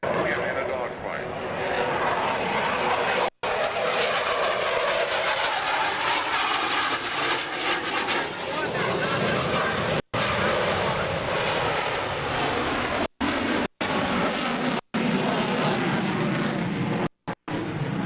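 An F/A-18F Super Hornet at an airshow demonstration roars past as a loud, sustained jet rumble that swells and shifts in pitch, with a public-address announcer talking over it.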